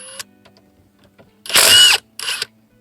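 A power tool, likely a drill or impact driver, works on 13mm alternator bolts on a Ford 6.0 Powerstroke engine, giving two short, loud whirring bursts close by, the second briefer, separated by quiet mechanical clicks.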